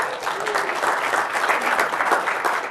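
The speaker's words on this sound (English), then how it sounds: "I've never been applauded for telling people to get the hell out before." Audience at a tech conference talk applauding, a dense, loud and sustained wash of clapping from many hands that holds steady for a few seconds and begins to thin at the end.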